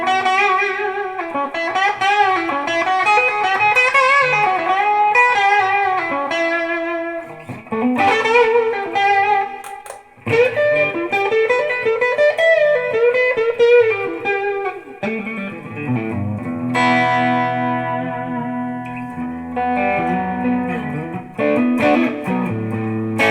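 An electric guitar played through a Behringer V-amp2 modelling amp with reverb added sounds distorted, with chords and single-note lines ringing out alone for a long stretch, with brief pauses between phrases.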